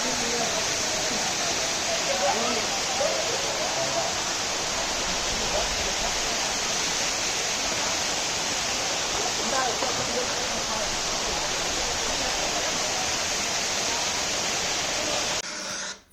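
Jhari waterfall in Chikmagalur roars as a dense, steady rush of falling water, loud and close throughout, cutting off abruptly at the end.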